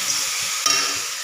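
Salt and turmeric stirred into food in a hot pan give a steady close sizzle with scraping stir strokes, one louder stroke near the middle, and no voices.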